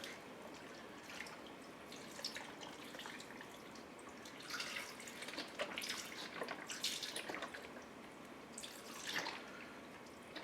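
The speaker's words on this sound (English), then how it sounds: "First thing I'm going to add is I'm going to add some of this whole thing of beef broth. I'm just going to add it in there." Beef broth from a carton pouring into a slow cooker, a quiet liquid splash and trickle with uneven bursts of dripping, somewhat faint and close.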